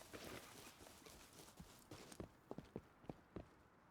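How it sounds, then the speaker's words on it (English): Footsteps in the survival game Rust. A quiet series of distinct thudding steps, about seven in an uneven rhythm, follows a muffled, rustling stretch. "Did I just hear footsteps?"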